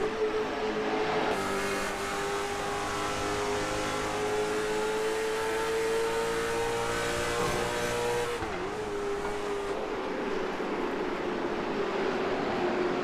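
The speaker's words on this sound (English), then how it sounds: "We ride on board with number 44 of Corey Tesner. You hear all the throttle time these guys have." Onboard sound from the number 44 late model stock car at IRP, engine held at full throttle in a loud sustained drone with a gradual pitch rise, a brief dip and recovery, then pulling hard again.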